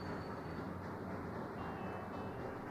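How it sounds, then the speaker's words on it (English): Train rumbling steadily in the Sweet Transit railway city-builder game, a continuous low, dense rolling noise with faint high tones above it, constant and fairly near throughout. "Oh, this stupid train."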